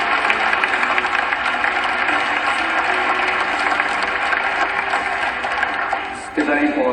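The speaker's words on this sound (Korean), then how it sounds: "박수로 와주십시오." A room of people at a Korean club gathering gives a long round of applause, a thick, continuous clatter of many hands that holds steady, then thins and changes near the end as it dies down.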